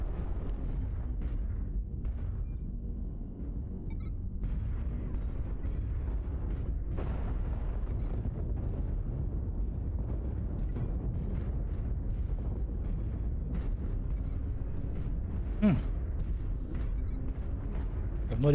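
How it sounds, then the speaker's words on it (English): Artillery strike in the video game MechWarrior Online, heard as a steady low rumbling roar of distant explosions with a brief sharper burst near the end. "Artillery strike online."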